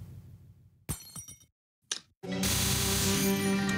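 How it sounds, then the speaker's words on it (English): Background shattering in the shoot-'em-up Murasaki: after a couple of brief glassy cracks and a pause, a loud burst of breaking glass erupts and rings on with a sustained bright crash. "Everything you know is wrong shatters the whole background."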